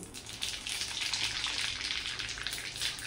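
Mustard seeds frying in well-heated oil give a continuous, bright crackling sizzle. It stays fairly close and even throughout, with a slight swell early on and no voices over it.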